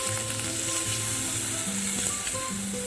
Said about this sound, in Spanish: removemos